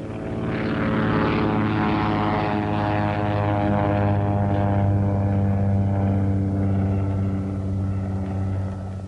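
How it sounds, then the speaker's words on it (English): A propeller warplane lands back onto an aircraft carrier flight deck in the Pacific war. The steady, loud engine drone rises slightly and then fades as the plane comes in. "he didn't waste any time getting himself and his plane back onto the flight deck"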